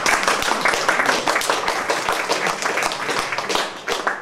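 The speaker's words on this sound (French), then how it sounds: "on peut l'applaudir, oui." An audience at an open-stage festival event claps steadily, a dense, even patter of many hands held at one level throughout, with no voices over it.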